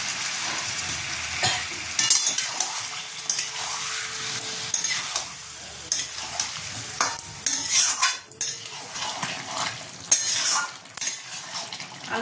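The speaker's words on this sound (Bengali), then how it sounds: "আলুগুলো যেহেতু আমি হাফ বয়েল করেছিলাম, তাই এতে অল্প পরিমাণে জল দিয়ে দিয়ে ভালো করে কষাবো" Half-boiled potatoes being sautéed for coconut aloo dum, with a little water added, make loud, irregular scraping and clattering of a spoon against the pan over a soft sizzle. No voices are heard.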